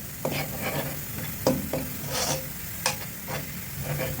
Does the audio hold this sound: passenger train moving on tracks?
no